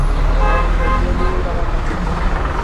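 A poultry truck passes close by on a highway at night, its engine roaring loudly under traffic noise, with short horn toots and a voice briefly heard.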